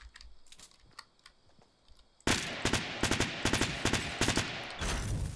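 Gunfire in the video game Fortnite, where sparse clicks give way to loud rapid bursts of automatic shots that continue to the end.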